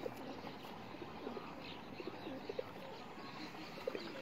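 Rampuri pigeons coo softly on a rooftop in short, repeated calls spaced every second or so. The calls sit faint and close over a steady wash of outdoor background noise.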